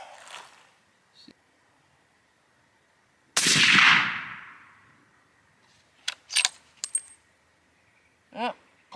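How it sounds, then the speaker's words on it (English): A single loud rifle shot fired from a Tricer RP bipod in a seated position outdoors rings out sharply and decays with a long rumbling echo, followed by faint handling clicks. "Just as I shot that third shot at down there"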